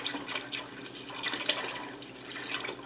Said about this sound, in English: Alright, and then we've got 1 quart of half and half